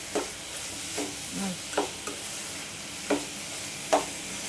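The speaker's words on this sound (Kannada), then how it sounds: "ಈ ಥರ ಸ್ವಲ್ಪ ಸ್ವಲ್ಪ ತುಪ್ಪ ಹಾಕ್ಕೊಂಡು ಈ ಥರ ತಿರುಗಿಸ್ಬೇಕು" Carrot halwa stirred with ghee in a pan: a few soft scraping strokes at irregular intervals over a faint steady sizzle, close and fairly quiet, with no talking.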